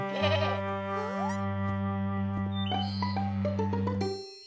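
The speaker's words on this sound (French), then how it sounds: "N'aie pas peur, Mousseline, c'est des moutons. Ils sont doux et gentils." Several sheep bleat in quick succession, loud and close, their wavering calls overlapping over a steady background.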